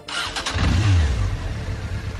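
An engine starts up and revs briefly on a motorcycle, a sharp ignition followed by a steady rumbling idle, close and loud with no talking.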